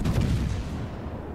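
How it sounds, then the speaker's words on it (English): Heavy naval gunfire from the battleship Massachusetts in World of Warships, a single deep booming salvo that swells in the first half second and rolls off into a long low rumble. "Massachusetts is firing on somebody else"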